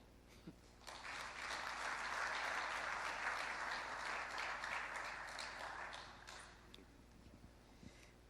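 An audience at an investment forum in Lilongwe, Malawi breaks into sustained applause lasting several seconds, fairly distant, then tapers off into a quiet room.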